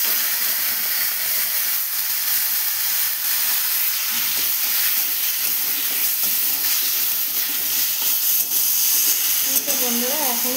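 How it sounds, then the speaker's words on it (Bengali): Meat hitting hot oil in a wok sets off a steady, loud sizzle and hiss that runs unbroken throughout, with faint stirring scrapes underneath. "আর দিয়ে দেবো মাংসটা।"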